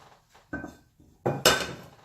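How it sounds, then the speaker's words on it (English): A cooking utensil scraping and clinking against a pot while stirring buttered red skin potatoes, a few separate knocks and scrapes, close and fairly loud, with no talk. "Then I'm gonna stir them with my favorite cooking utensil."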